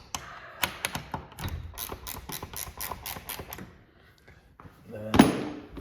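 A wrench ratchets in quick repeated clicks while loosening hinge bolts on a Hormann garage door, a close rhythmic burst, then a pause and a single louder metallic clank.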